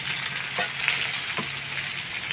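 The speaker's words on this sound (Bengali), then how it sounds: "এই মশলাটাও আমি দিয়ে এখন কষে কষাবো" Spices and green chillies fry in a pan for a pumpkin and potato curry, giving a steady close sizzle broken by a couple of quick spatula scrapes, with no voices.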